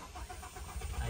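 A 2019 Toyota Fortuner with a damaged ECU cranks without catching, its low starter churn steady and close and swelling slightly toward the end, with no voices.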